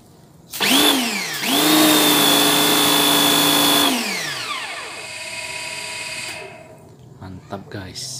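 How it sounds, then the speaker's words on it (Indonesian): A high pressure cleaning machine with a Sanyo pump spins up with a loud rising whine, holds a steady motor hum, then winds down, leaving a quieter lower hum that fades out. "Itu tadi suara yang belakangan mati adalah suara sanyo ya"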